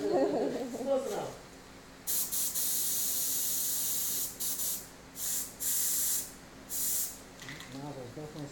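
Aerosol spray paint can hissing in several loud bursts of varying length while a lathe is painted, a stuck nozzle interrupting the flow; people talk before and after the spraying.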